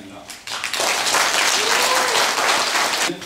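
An audience at a book concert claps and cheers, the applause swelling in after a moment of speech, holding strong for a couple of seconds, then tapering off as talking resumes.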